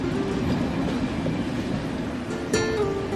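A train pulls away with a steady, close rumble and clatter of rail cars, broken by a brief sharp hiss or squeal partway through; no voices.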